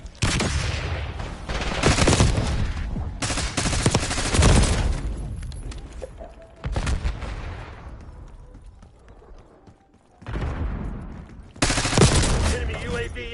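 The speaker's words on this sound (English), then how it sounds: "Flashbang out." Gunfire and a flashbang grenade in Call of Duty, loud bursts of rapid shots and blasts coming in clusters, separated by short quieter gaps.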